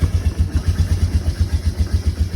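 An ATV four-wheeler engine idling low and quiet up close, a steady rhythmic putter with even pulses throughout and no speech.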